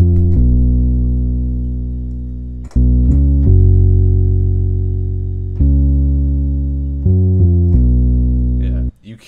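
Warm synth patch with a light chorus, built for a hip-hop instrumental, playing sustained chords that change every second or two, loud and alone with no voices.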